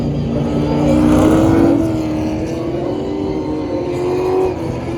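V8 Supercars lapping the track during qualifying at the Perth round, heard as a continuous roar of engines that swells around the one-second mark and then settles into a steady drone, moderately distant.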